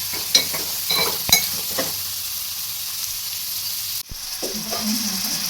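Onions sauté in a pan for a prawn fry, giving a continuous sizzle with a few sharp stirring scrapes early on and a brief clatter near the end.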